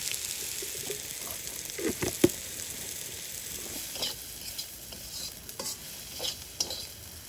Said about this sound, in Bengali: হয়ে গেছে বরবটি সিম ভাজা